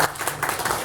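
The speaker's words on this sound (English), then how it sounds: "Let's welcome Ashwin with applause." An audience claps to welcome a speaker at an AI conference talk, a brief burst of dense, lively applause heard up close.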